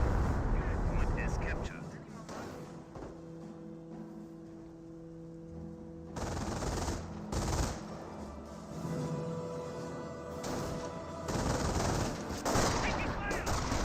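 In a Company of Heroes battle, World War II MG42 bursts and rifle shots rattle in clusters against distant ambient drone, with a commentator talking over the fire throughout.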